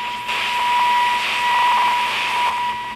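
A thin, pure 1 kHz tone swells and fades repeatedly over broadband radio static on a C.Crane CC Pocket radio, with no one speaking.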